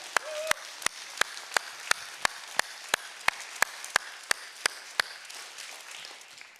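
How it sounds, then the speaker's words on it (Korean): In a church service, the congregation claps in unison with sharp, evenly spaced claps, about fourteen at a steady beat, before the clapping fades into softer scattered patter. "하나님께 영광의 박수 올리겠습니다"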